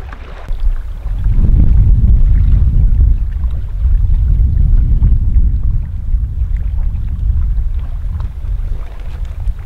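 Strong wind gusting over a lake, a loud, close, continuous low roar and rumble with surging buffets that swell and ease throughout, heavy wind noise on the microphone and no talking.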